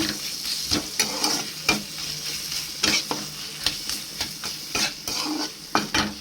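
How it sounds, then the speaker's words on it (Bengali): Spices and tomato frying in a pan for vegetarian khichuri, stirred briskly with a metal spoon, giving repeated close scraping and clinking strokes over a continuous sizzle. "দিয়ে মশলাটা দিয়ে ভালো করে নেড়ে নেব।"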